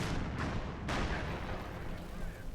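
Artillery fire in the World War II strategy game Company of Heroes 2: two sharp booms in quick succession, each trailing into a rumbling, dense roar of battle noise.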